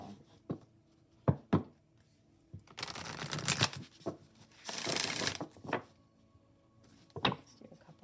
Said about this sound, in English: Let's do a couple shuffles.